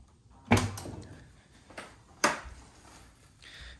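Butterfly door of a damaged McLaren 650 Spider swinging upward, with two sharp nearby clunks of the latch and hinge separated by a brief quiet pause, then a faint softer rustle.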